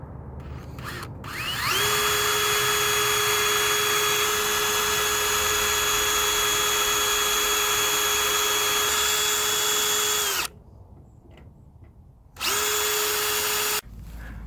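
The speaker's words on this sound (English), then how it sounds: "drill bit, made myself pilot holes." A power drill with a 1/8 inch bit drills pilot holes in truck cab sheet metal, running in long continuous bursts with a high whine, pausing briefly before a shorter run. Close and loud, no speech.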